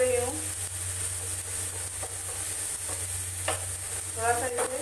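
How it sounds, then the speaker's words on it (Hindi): Tomatoes frying and being mashed in a pan for a raw banana bharta, with steady close sizzling and occasional scraping and stirring strokes, and brief faint voice in the background. "टमाटर को सॉफ्ट होने तक भूनना है।"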